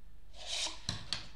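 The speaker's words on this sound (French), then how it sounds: "Toujours avec l'aide de la paire de ciseaux, je vais couper sur le trait, jusqu'au bout du trait" Scissors cutting paper along a drawn line for a paper frisbee craft: a soft sliding rub followed by three sharp snips, close and quiet with no voices.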